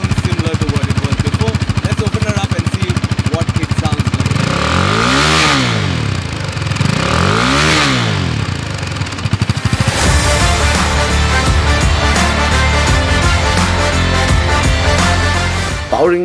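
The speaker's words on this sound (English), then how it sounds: "Turn it over and see what it sounds like." A 2022 KTM RC 390 with its 373cc liquid-cooled single-cylinder engine starts and idles nearby, with two sharp revs rising and falling before settling into a steady, loud idle through the exhaust.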